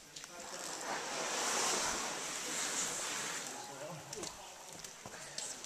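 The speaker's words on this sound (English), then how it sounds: "Water coming off the cliff." A steady, rushing roar of water falling off a cliff at Mesa Verde, broad and hissing, swelling slightly midway, with faint gusts of wind over the microphone.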